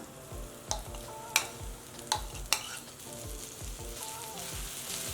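Green chili paste fries in a little oil over low flame, a soft steady sizzle with a few sharp spoon taps and scrapes as it is stirred.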